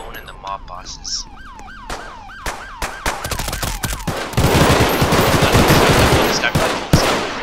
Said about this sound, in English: the way it's firing and it's reminds me of Al Capone and the mob bosses